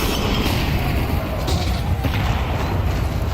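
Mag-7 shotgun fire in Counter-Strike 2 during a professional esports semi-final, heard as dull booming thuds buried in a dense, continuous wash of game noise.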